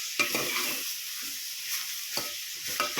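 Greens and onion stir-fry in hot oil, a soft steady sizzle broken by several scraping stirs of a spoon against the pan, close and fairly quiet with no talking.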